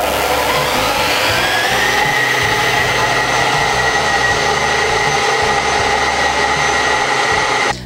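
An electric mixer whirs through cottage cheese casserole batter, a loud, steady motor drone with a high whine that rises briefly early on. It runs continuously for several seconds and cuts off abruptly at the end.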